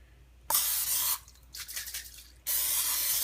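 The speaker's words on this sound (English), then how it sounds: "I take just your Pam spray or whatever cooking spray that you have," Pam cooking spray hisses into a cup in two bursts, a short bright blast followed by a pause, then a longer steady spray, close and loud with no voices.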